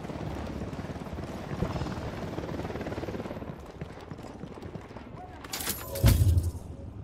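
Helicopter in the video game Ghost Recon Wildlands, a steady rhythmic rotor thumping under game sounds and a voice, ending with a loud burst near the end.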